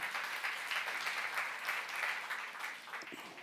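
A church youth congregation applauds during a sermon, giving a steady wash of clapping at fairly low level that holds evenly from start to end, heard from some distance, with faint room noise beneath.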